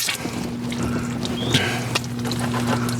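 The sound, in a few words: water squirting from disconnected water line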